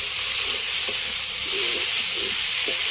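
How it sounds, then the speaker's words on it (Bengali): Salted dried fish frying in a pan, producing a loud, continuous hiss and sizzle at close range, with faint stirring knocks underneath. "এভাবে প্রচুর পরিমাণে ভাজতে লাগবে এগুলাকে"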